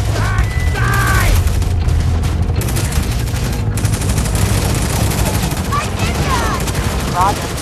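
Battle in Tom Clancy's EndWar: loud, continuous rattling gunfire and bursts of artillery, with a chaotic roar of combat that keeps going throughout.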